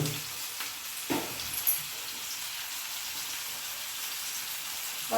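Onion and bitter gourd frying in a pan give a soft, even sizzle with a couple of brief stirring knocks near the start, fairly quiet and without talk.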